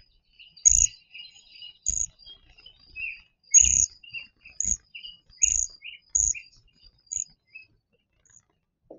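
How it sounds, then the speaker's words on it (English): A wild bird sings a series of about seven short, high chirps spaced roughly a second apart, each paired with a soft low thump, clear against a quiet background with no talking. "Here's another version of the same bird."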